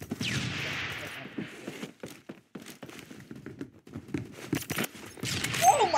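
Sniper rifle gunfire in the video game Phantom Forces, a handful of sharp separate shots scattered among quieter game sounds and brief talk, moderately loud.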